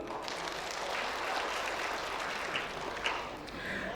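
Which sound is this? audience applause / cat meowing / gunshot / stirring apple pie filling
audience applause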